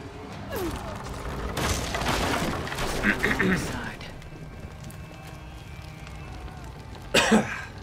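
A person coughs in a rough, hacking burst, then again briefly near the end, with quiet room noise between.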